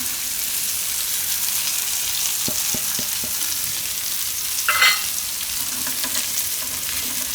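Gram flour and cauliflower roast in hot oil in a home kitchen pan, a steady close sizzle with brief stirring scrapes and a louder clatter of the spoon midway; no talking.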